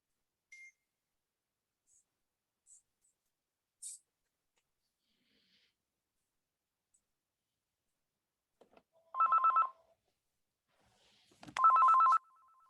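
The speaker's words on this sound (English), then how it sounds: "That's my phone." A telephone rings in a quiet room during a watercolour painting workshop, two distinct bursts of electronic ringing a couple of seconds apart, loud and close, preceded by a few faint clicks.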